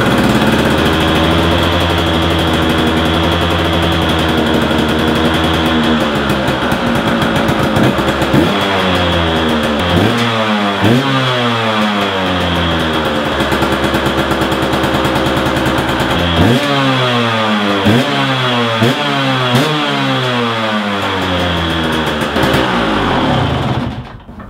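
A 2011 KTM 125 EXC two-stroke dirt bike with a replaced piston, on a cold day, runs loud and close, with repeated sharp revs rising and falling over a buzzy idle.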